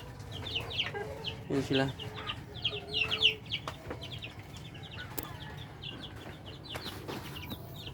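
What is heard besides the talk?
newly hatched chicks peeping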